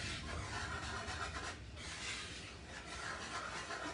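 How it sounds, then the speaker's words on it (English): Whisk scraping steadily around a bowl of dry ingredients for old-fashioned tea cakes, with a continuous close rasping swish that rises and falls in a quick, even rhythm. "Let's whisk this together."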